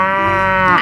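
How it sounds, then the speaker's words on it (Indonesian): A toy animal sound plays a loud, steady synthetic cow moo, one sustained bleating call lasting under a second with no voices over it. "Ada hewan sapi mo."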